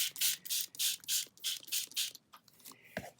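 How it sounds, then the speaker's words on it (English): A spray bottle pumps out six quick hissing bursts of water onto paper in steady rhythm, followed by a brief pause and some soft rubbing and handling noises. "And now I'm going to spray it with water."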